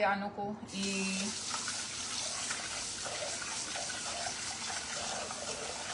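Rice-washing water poured out in a steady, close gushing stream that continues throughout, preceded by a brief voice at the start.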